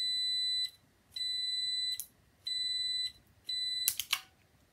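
Continuity tester beeping in long steady tones, four beeps about a second each with short gaps, while checking a safety switch on a Snapper RER riding mower; a few clicks near the end.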